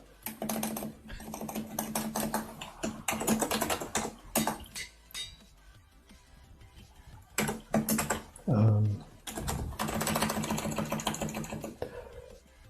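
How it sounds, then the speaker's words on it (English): Loud clacking of a mechanical computer keyboard, typed in bursts with short pauses, captured close by a non-directional microphone in a home gaming setup; a voice speaks briefly between the typing runs. "That is a loud keyboard there. Yeah, it's a mechanical keyboard."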